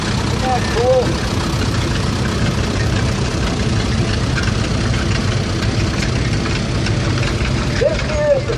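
A vintage tractor engine idles at a parade, a steady low rumble that holds even and continuous throughout, with faint voices in the background.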